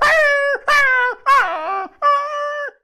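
A voice imitates street dogs, giving four loud, drawn-out barking and howling calls separated by short pauses, each with a rising then falling wavering pitch, close and clear with no other sound.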